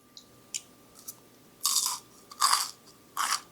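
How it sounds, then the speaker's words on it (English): A few small clicks, then three loud, crisp crunches of someone biting and chewing crunchy chicken close up, with short pauses between. "Let's hear the crunch of the chicken."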